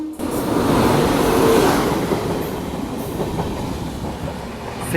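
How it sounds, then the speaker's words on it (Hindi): A passenger train, the Sikkim Mahananda Express, rolls past on a railway line near the Bhutan border, a loud, close, continuous rumble with wheel clatter that swells and then slowly eases. "और इन लोगों के साथ कोई तो ट्रेन आ रही है।"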